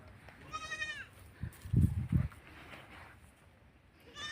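Goats by a goat shed on a remote riverine char give short wavering bleats near the start and again at the end, with a few dull thumps in between in a quiet outdoor setting.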